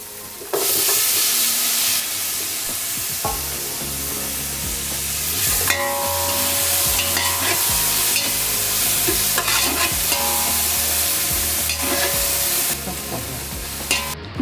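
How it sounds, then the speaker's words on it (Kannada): Tomatoes fry in oil for a spicy Malnad-style mutton masala, a loud steady sizzle close by with repeated scraping and stirring of a ladle against the pan and no talking. "ಫ್ರೈ ಮಾಡ್ಕೊಳ್ಳೋಣ. ಟೊಮೆಟೊ ಹಣ್ಣು ಹಾಕ್ತಾ ಇದ್ದೀನಿ."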